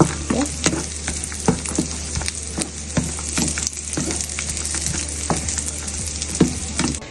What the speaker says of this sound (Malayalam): മുന്തിരി, കാഷ്നട്ട്സ് ഇട്ട് കഴിഞ്ഞ് മുന്തിരി ഇടുക. ഇതൊന്ന് വീർക്കും മുന്തിരി, അതുവരെ ഒന്ന് റോസ്റ്റ് ചെയ്യാം.